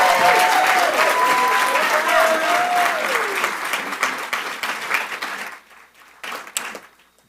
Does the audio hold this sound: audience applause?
yes